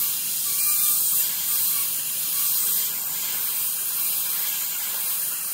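Paint hisses steadily from a sprayer onto a seascape painting, a continuous close airy spray with slight swells in loudness.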